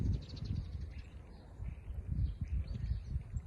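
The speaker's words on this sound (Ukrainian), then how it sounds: "Це цвірінчать пташечки." Small birds chirp and twitter faintly in the distance, over a soft outdoor background.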